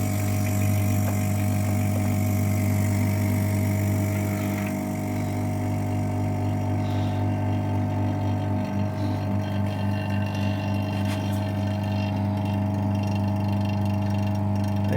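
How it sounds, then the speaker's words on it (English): A vacuum pump runs continuously, drawing air out of a resin pot inside a homemade degassing chamber, a steady humming drone with strong low tones that holds at an even loudness throughout. "I'm now going to switch the pump on and hopefully drag this air out."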